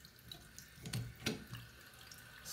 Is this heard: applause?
no